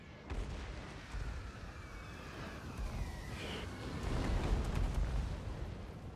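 Artillery fire in a Total War: Warhammer battle gives several deep booms and rumbling blasts over a dense battlefield din, growing heavier toward the end, with no one speaking.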